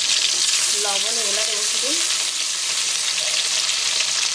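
Onions frying in oil for a dried-fish dish, a loud, constant hiss of sizzling that runs throughout while someone speaks briefly over it.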